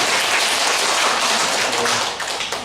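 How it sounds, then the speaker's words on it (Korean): A church congregation applauds, dense rapid hand clapping filling the room steadily and fairly loud, tapering slightly at the end. "이분들도 박수 쳐드려야죠."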